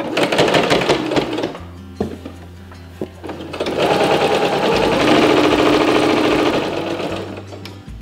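A sewing machine hems the edge of a linen tea towel, running in fast rhythmic bursts with brief pauses between stitch runs, close and loud.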